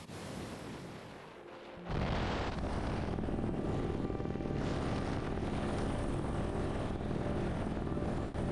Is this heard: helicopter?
yes